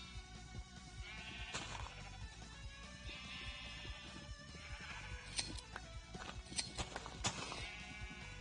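Several sheep in the video game Minecraft bleat in scattered, overlapping calls over a busy bed of game sounds with clopping footsteps, moderately loud and without speech.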